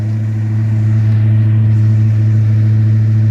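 A Foxbody Mustang engine with welded V-band exhaust runs on the fast idle cam, a steady, loud, deep exhaust drone holding an even pitch throughout, heard close and alone.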